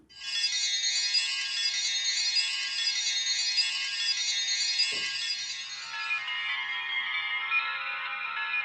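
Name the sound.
low-pitched sampled wind chimes synth patch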